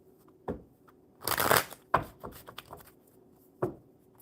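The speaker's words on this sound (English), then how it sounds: "And I'm going to start shuffling the tarot deck for you first." A tarot card deck is shuffled close up in quiet surroundings, giving a few separate soft riffles and taps followed by one longer, louder burst of card flutter.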